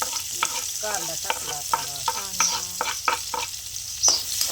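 Garlic stirred and frying in a pan, a steady sizzle broken by repeated scraping strokes of the spoon, close and fairly loud with no talking.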